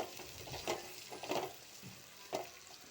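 A spoon stirs an onion mixture with turmeric powder in a pan, making a few soft, separate scraping strokes. The sound is quiet and close, with no voices.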